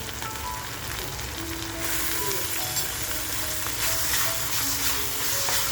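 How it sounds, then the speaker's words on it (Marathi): Goat tripe (vajri) frying with masala in a pan, a constant crackling sizzle with occasional spoon scrapes and stirring, steady and close, rising slightly as more pieces go in. "आता जी आपण वजरी घेतली आहे ना ती वजरी आपण थोडी थोडी टाकून मस्त अशी मसाल्याबरोबर फ्राय करून घेऊया"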